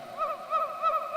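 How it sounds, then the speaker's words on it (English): Hooting, warbling bird-like calls from a Plinky synthesizer shaped by its LFOs, a repeating wavering tone that rises and falls in close, even pulses. "So you can make bird noises."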